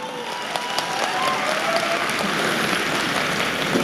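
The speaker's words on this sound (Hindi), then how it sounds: "आज 4-4 हजार लोग इतनी रात को ठंड में स्टेडियम में बैठ के तालियां बजा रहे हैं" Some four thousand people seated in a stadium on a cold night applaud at a recognition ceremony, producing dense, continuous clapping that fills the space evenly from start to finish, loud and unbroken with no voices rising above it.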